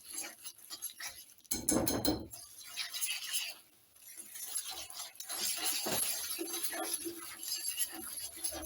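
Sugar and egg yolks being mixed in a bowl for Breton shortbread dough, with a run of clinking and scraping against the bowl, a louder burst early on, then steady stirring noise with no talk.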